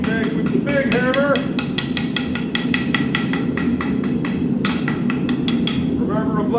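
A blacksmith's hammer beats hot steel scroll on an anvil while forging handrail returns, smoothing out flat spots. It is a brisk, steady run of close, bright, ringing metallic strikes that continues for several seconds.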